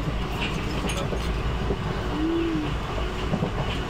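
A train rumbles steadily along the rails, a continuous low roar with faint clicking, close and even throughout.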